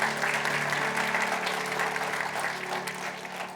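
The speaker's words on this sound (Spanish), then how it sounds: "Denle un aplauso fuerte al Señor porque Él es bueno." A church congregation at a Christian worship service claps steadily and loudly in a dense, continuous round of applause lasting the whole stretch.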